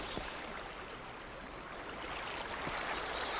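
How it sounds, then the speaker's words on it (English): Steady rushing and trickling of flowing water in Minecraft, heard as a continuous, fairly faint broadband wash with a few small splashes and no talk. "there's lots of water out the back"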